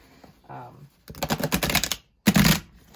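Card shuffling, a fast riffling burst followed by a second short riffle, with a brief murmur of speech before it starts.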